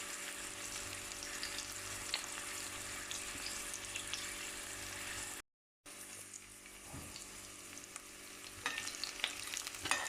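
Onions frying in a pan while cooking mutton and cabbage outdoors, with a steady close sizzle, occasional stirring clicks, a brief dropout midway and no talk.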